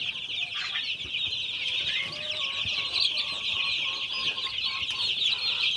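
Colour-bird chickens in a poultry shed at midday feeding time, many birds clucking and chattering together in a continuous, busy flock murmur.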